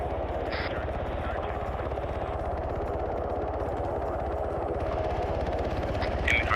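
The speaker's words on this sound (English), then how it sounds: "the Blackhawks are gonna land, dismount a squad, and we're gonna replace them" Blackhawk helicopters come in to land in a military video game, a steady close rotor thump droning throughout with faint gunfire in the background.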